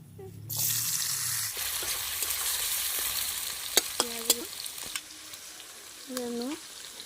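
A bowl of onions frying in a pan after potatoes have come out, for a spicy Bengali shankar fish curry: a steady close sizzle with a few sharp clinks of a utensil and no talking.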